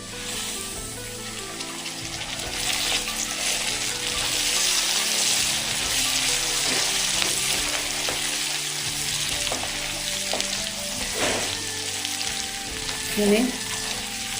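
Curry leaves sizzle and crackle loudly in hot oil in a pan while Kerala-style beef fry is cooked, with a steady frying hiss throughout, bursts of sharper popping, and the occasional stir.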